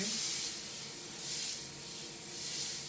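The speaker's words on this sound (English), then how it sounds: "Simply by using the steam," Garment steamer hissing steam onto a designer jacket, a loud continuous hiss that swells and eases in slow pulses, with no talking over it.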